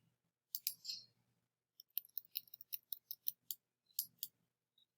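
Computer mouse clicks during photo editing with a burn tool: a quick double click, a pause, then a run of a dozen or so sharp, faint clicks in uneven rhythm, close up in a quiet room.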